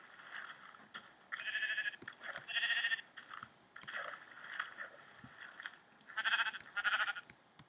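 Sheep in the Minecraft video game bleat in short, repeated cries, several overlapping calls over the full stretch, clear and close with no voices.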